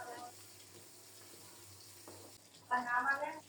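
Pabda fish fry in a pan with a soft, quiet sizzle, broken by a louder burst of voice-like sound near the end.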